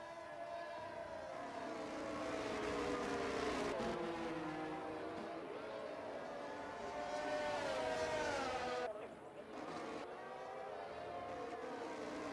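Several race cars in a racing game circle the Bahrain circuit on outlaps, engines droning and whining at steady high revs with pitch shifting as they pass, continuous and fairly close, with a brief dip near the end.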